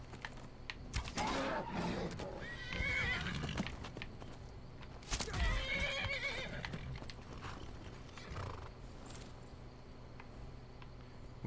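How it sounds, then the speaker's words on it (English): In the Skyrim video game a horse whinnies twice in loud, drawn-out bursts over clip-clopping hooves and busy game sounds, with faint talk underneath. "Don't leave my horse. Why does everybody try and kill my horse?"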